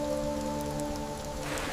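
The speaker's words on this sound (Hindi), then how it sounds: "बारिश" Rain falling in a continuous, even hiss of drops on surfaces, close and steady throughout.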